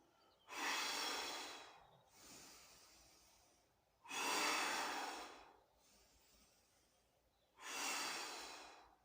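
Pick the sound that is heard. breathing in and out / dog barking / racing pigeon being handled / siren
breathing in and out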